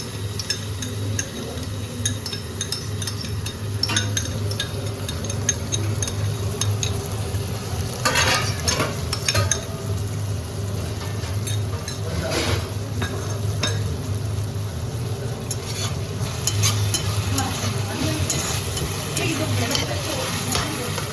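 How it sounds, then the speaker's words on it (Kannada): A prepared sauce sizzles steadily in a hot pan while being stirred, a continuous loud frying hiss with scraping strokes and occasional clinks throughout, no talking over it. "ಸಾಸ್ ಅವಾಗಲೇ ಪ್ರಿಪೇರ್ ಮಾಡಿದ್ವಲ್ಲ ಸಾಸು, ಅದನ್ನು ಹಾಕೋತಾ ಇದ್ದೀವಿ."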